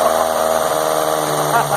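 A VW Golf MK2 GTI fitted with motorcycle carburetors idles at a raised idle, a close, steady and loud engine drone with an even mechanical hum.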